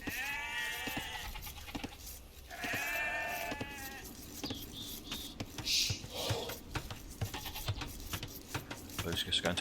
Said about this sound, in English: I found all my sheep now.